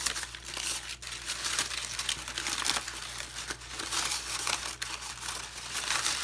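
Paper being stretched and crinkled by hand to shape the petals of a huge paper flower: close, continuous crackling and rustling with brief louder crunches, no voices.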